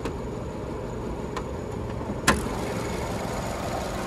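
A single sharp metallic clunk of a rough 2017 Nissan Rogue S hood latch releasing, with a fainter click just before, over a steady low background hum.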